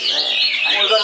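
A white-rumped shama sings a short, bright, warbling phrase of high whistled notes, close and clear.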